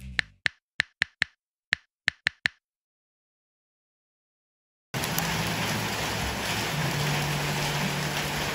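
Steady rain hisses continuously after a few seconds of sharp, isolated clicks and a stretch of silence, with a low hum underneath.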